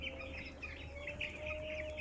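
Broiler chickens cluck and chirp softly over a steady background hum, several birds murmuring together in a farm shed.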